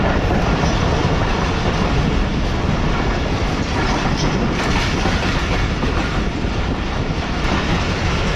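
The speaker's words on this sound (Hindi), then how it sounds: "इस वक्त बिल्कुल हमारे सामने से आ रही है 50 डाउन समर वेकेशन एक्सप्रेस" The Pakistan Railways 50 Down Summer Vacation Express, led by an HGME 30 locomotive, thunders past close by with a loud, continuous roar and rattling wheels on the rails throughout.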